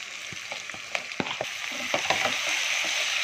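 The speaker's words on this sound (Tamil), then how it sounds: "தக்காளி சேர்த்து நல்லா வதக்கணும் வெங்காயம் தக்காளி நல்லா ஸ்மாஷ் ஆகிற அளவுக்கு வதக்கிக்கலாம்" Tomatoes sizzle in a pan with onion and ginger-garlic paste for a vada curry, a close, steady frying hiss broken by sharp clicks and scrapes of a spoon stirring.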